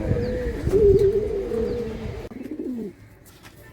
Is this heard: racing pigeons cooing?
yes